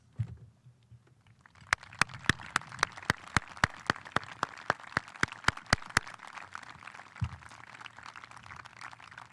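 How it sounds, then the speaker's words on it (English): Applause for faculty at a high school commencement ceremony: a run of sharp, evenly spaced claps over a soft crowd wash, fading into faint murmur, with a voice briefly heard before and after. "I call upon you, the senior class, to offer them a round of applause as a final tribute to their efforts"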